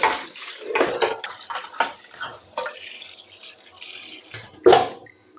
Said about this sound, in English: I need to drain the water.